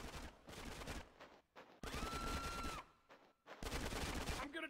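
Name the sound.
gunfire in video game Grand Theft Auto San Andreas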